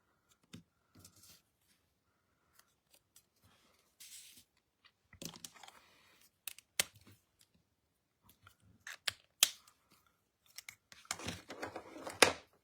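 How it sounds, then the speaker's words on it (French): Paper or thin material being cut with scissors at a craft table, heard as scattered short snips and crisp rustles with quiet gaps between them, closing with a denser burst of cutting. "Il se découpe très bien au ciseau."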